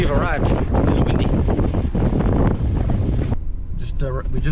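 Strong wind buffets the microphone at a Theodore Roosevelt National Park arrival, roaring in loud, gusty bursts under a person's voice, then easing briefly at the end.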